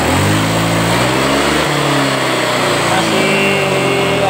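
A Honda Vario 125 scooter engine revs under throttle with a hesitant, delayed response, its loud, steady mid-pitched drone rising and holding near the listener throughout.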